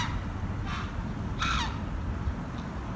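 Ducks at a moat give two rough, harsh calls, a short one then a louder raspy one, heard at moderate distance over steady low outdoor rumble.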